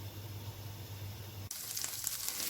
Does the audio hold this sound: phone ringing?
no